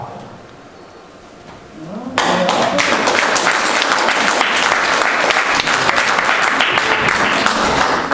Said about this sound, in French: On peut encore l'applaudir très très fort